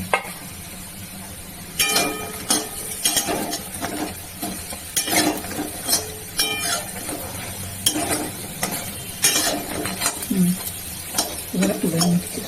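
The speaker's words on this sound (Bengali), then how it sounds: "হ্যাঁ, ব্রাউন করে ভাজা হ্যাঁ হয়েছে।" Browned vegetable fritters fry in hot oil for a vegetarian thali, a soft sizzle running beneath frequent sharp metallic clinks and scrapes of a utensil turning and lifting them out.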